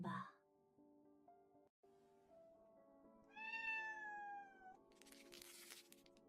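A cat meows a single drawn-out call partway through, close and fairly clear, over quiet background music in an indoor scene.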